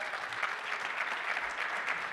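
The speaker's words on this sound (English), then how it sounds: "Let's give her a round of applause." Sustained audience applause fills a conference hall at CES 2024, a steady dense clatter of many hands clapping evenly throughout without pause.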